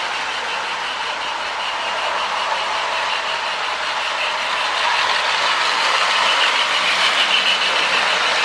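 A custom Marx toy train locomotive with a 1666 motor runs steadily, giving a continuous close whirring and gear hum that grows slightly louder toward the end, with no voices.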